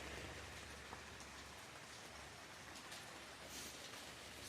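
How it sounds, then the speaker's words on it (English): Steady rain drums on a tent fabric top over a 1975 Volkswagen Super Beetle, a dense, even hiss of drops throughout with no voices. "And she's raining."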